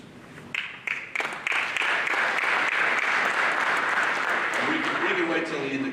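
A crowd at a high school sports banquet claps, starting with scattered hand claps that build into steady, full applause, with voices mixed in underneath.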